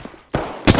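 Gunfire in Apex Legends from a Flatline or Hemlok rifle: two loud, sharp bursts close together, the second harder, with no speech over them.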